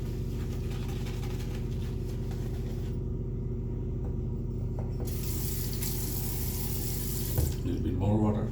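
Steady running tap water pours into a sink as Stirling shave soap is loaded, a constant close rush that briefly changes in tone before a short clatter near the end.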